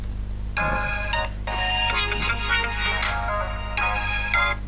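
A mobile phone ringtone plays a melodic tone pattern in three bursts, loud and close, over a steady low hum, with no talking.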